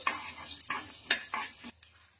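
Peanuts tossed and fried in a pan, a few quick rhythmic stirring scrapes over a low sizzle, close and moderately quiet, then stopping.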